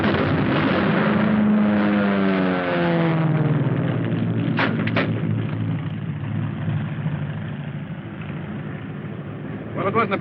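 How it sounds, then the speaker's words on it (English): An airplane flying overhead over Africa, a steady engine drone whose pitch slides downward as it passes, with a short sharp knock midway and voices faintly under it. "There's the plane."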